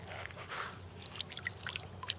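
Swimming pool water dripping and trickling off a squeegee raised from the waterline, quiet scattered drips and small splashes at close range over a low background hum.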